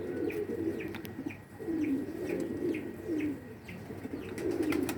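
A high flyer racer pigeon held in the hand, cooing softly in a repeated low rhythm of rolling calls, with faint chirps above.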